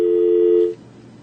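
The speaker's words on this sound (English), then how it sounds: "So I heard a phone line there." A steady telephone line tone sounds on a radio call-in show, holding loud and level for about three quarters of a second before cutting off abruptly into faint line hiss.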